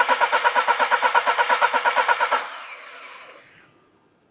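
Car engine cranking on the starter during a cylinder compression test, a steady rapid chugging of about twenty even beats for over two seconds, then stopping and fading, close and loud with no talk.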